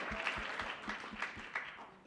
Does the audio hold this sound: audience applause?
yes